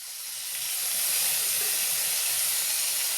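Chopped mushrooms hitting a hot pan of Nepali-style curry with potatoes, giving a loud, steady broadband hiss of sizzling that swells over the first second and then holds evenly.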